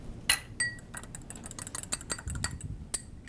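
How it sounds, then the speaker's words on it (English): An egg is given a quick whisk in a bowl for chocolate chip blueberry bread, making a rapid series of light clinks and taps of the whisk against the bowl. "We'll come in with our egg and just kind of give it a little whisk"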